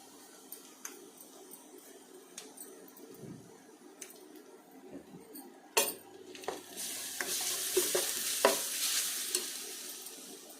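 Onions with ground garlic paste sauté in a little oil for chicken gravy, a soft sizzle that swells after a sharp clank midway, with intermittent scraping and stirring knocks of a spoon against the pan.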